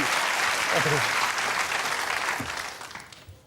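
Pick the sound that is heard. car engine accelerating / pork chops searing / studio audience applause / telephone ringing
studio audience applause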